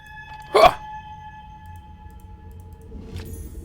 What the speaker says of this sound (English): But when you have to burp, you've got to burp.